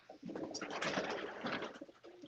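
Pigeons coo softly inside a loft, several overlapping soft calls across a couple of seconds, fairly close and fairly quiet.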